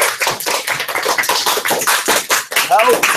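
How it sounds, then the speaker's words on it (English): Audience claps for a young lady at a live maths show, quick scattered claps mixed with voices and cheers over about three seconds. "Give that young lady a round of applause."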